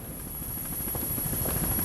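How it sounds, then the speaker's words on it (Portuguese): A helicopter passes over a city, a steady, growing rotor drone with a rising rumble that sounds fairly near, heard alone without speech. "Não para de passar helicóptero."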